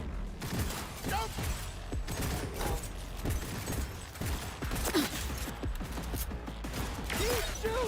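Gunfire in the video game Cyberpunk, with bursts of rapid shots crackling through a busy, dense mix of game effects while a voice talks over the action throughout.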